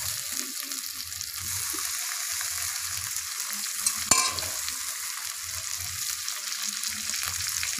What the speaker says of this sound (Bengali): পেঁয়াজটা লাল লাল করে ভাজা হয়ে গেছে, টমেটোটা দিয়ে দেবো।